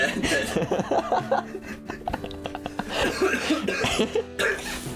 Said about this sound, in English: Sorry, everybody, I have a cough.